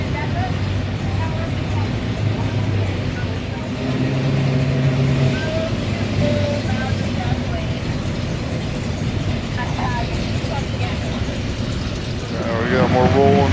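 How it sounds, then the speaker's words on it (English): Cars roll into a car show at Big Bear Lake, with a steady low hum of engines idling and creeping past, plus mechanical clatter and a brief chirp near the end, under faint background chatter. "there's actually multiple entry points for the cars rolling in."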